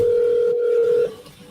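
A steady telephone tone sounds over a video call, holding a loud, even pitch for about a second before cutting off, leaving faint background noise.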